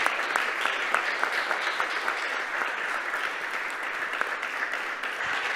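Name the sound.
audience applause for speakers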